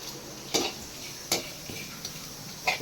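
Urad dal being sautéed in a pan for thuvaiyal: a few sharp, separate scrapes and clinks of a spoon against the pan over a quiet background, about four knocks in under three seconds.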